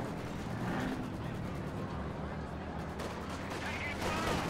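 Rapid bursts of machine gun fire from a veteran MG team in a Company of Heroes 2 tournament match, mixed with distant explosions and battle noise beneath constant commentary.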